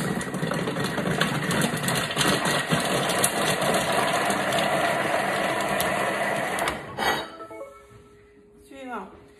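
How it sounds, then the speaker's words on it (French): A kitchen food processor chops onions at speed 5 with powder added, a loud steady whirring motor drone for about seven seconds that stops abruptly, followed by brief clatter as it winds down. "on va mixer 5 secondes,"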